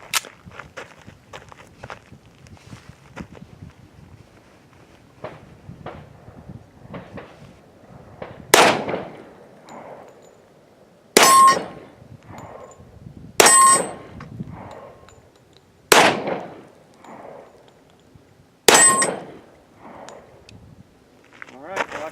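Five loud, sharp shots from a Sig P220 Elite 10mm pistol, each followed by a ringing clang of steel targets and spaced a few seconds apart, after softer handling and footstep sounds at an outdoor range.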